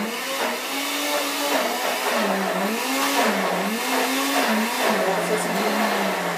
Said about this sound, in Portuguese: Então, agora vamos lá pro liquidificador de novo.